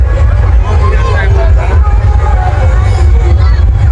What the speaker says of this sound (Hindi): तो गाइस खतरनाक वाला भीड़ है मेला में।